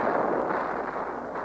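Mortar explosions in the Vietnam War, a dense sustained rumble of blasts and booming fire at a steady loud level throughout the short stretch.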